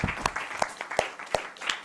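Applause for a speaker at an innovation talk event, a short burst of scattered hand clapping from an audience, moderately loud and fairly near, with a few sharper individual claps standing out.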